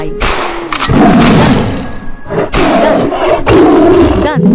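A loud, deep lion roar rumbles in long powerful bursts, rising and falling several times with heavy thuds between them, close and forceful.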